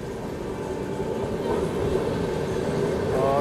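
Vaishali Express, a high-priority superfast train, at Gorakhpur Cantonment railway station, giving a steady, close rumble of rail noise that swells slightly toward the end, with a faint squeal near the finish.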